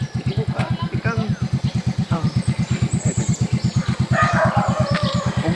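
Small motorcycle carrying riders toward town in a fishing village, its engine putting out a steady rapid pulsing throb throughout, with faint bird calls and wind noise in the background.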